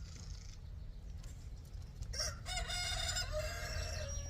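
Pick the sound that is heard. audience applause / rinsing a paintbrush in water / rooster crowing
rooster crowing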